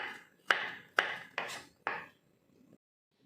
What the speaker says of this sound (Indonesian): Kunyitnya sudah diiris semuanya ya.